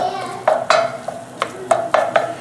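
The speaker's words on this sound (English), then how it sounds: "stir that around just a bit. Mix that on in there. Toast them herbs up a little bit" Spoon stirring oregano and other herbs in a pan, a run of sharp metallic scrapes and clinks in an irregular rhythm, close and clear.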